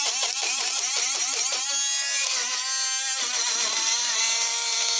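A small USB-powered juicer blender whirs steadily as its blade spins and mixes, a continuous buzzing motor tone that shifts pitch slightly as the load changes.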